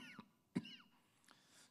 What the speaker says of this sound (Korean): 갑자기 사례에 걸렸어요.